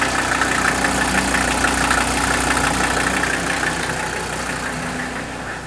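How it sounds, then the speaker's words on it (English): An old diesel engine idles just after firing up in a workshop, a close, steady knocking chug that holds an even rhythm and eases off slightly toward the end. "Watch this baby fire up. Oh, now that is a strong diesel."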